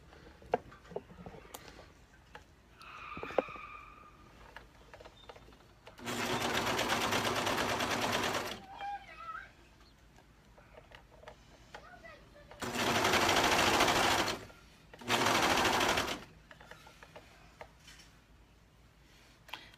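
A home sewing machine runs in three separate bursts, a long first run and two shorter ones close together, loud against a quiet room with faint background sounds in the gaps.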